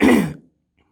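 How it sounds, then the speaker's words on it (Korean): A dry cough with harsh throat clearing from a speaker with a sore throat, one short loud burst that fades quickly into silence. "목이 너무 아파서 자꾸 이렇게 막 컷기침이 나고"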